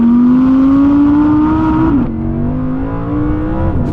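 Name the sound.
Audi R8 V10 rear-wheel drive engine revving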